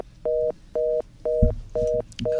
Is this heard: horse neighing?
no